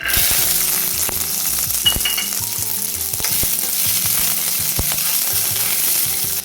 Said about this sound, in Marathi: यामध्ये आपण हे वाटाणे पण परतून घेणार आहोत